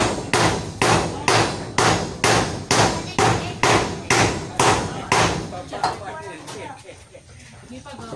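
Steady hammer blows drive a nail into wood, about a dozen sharp, evenly spaced strikes close by, then they stop and faint outdoor background remains. The work is in a provincial cemetery where a tomb is being painted.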